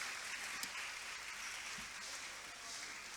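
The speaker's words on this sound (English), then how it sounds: "Let's give her a round of applause" Audience applause at a university student conference, a steady wash of clapping from a crowd filling the hall at even loudness throughout.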